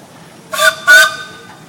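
A steam whistle on a 1923 Case 50-horsepower steam traction engine at a steam engine show sounds two close, loud blasts, the second longer, followed by a faint brief echo.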